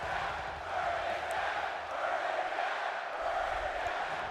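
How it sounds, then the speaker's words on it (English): A wrestling arena crowd in the WWE 2K22 video game chanting "Burn it down" for Seth Rollins during a SmackDown match against Drew Gulak; a rhythmic, swelling mass of voices heard at a distance. "The crowd chanting, "Burn it down" for Seth Rollins."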